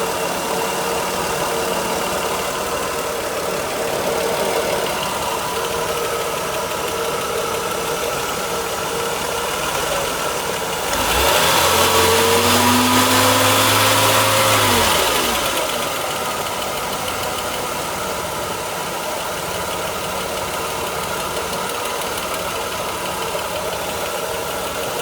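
A 1992 Mercedes W124 300E with the M103 engine idles steadily with a persistent ticking from noisy lifters, a continuous near drone, briefly joined mid-way by a louder whooshing passing sound lasting a few seconds.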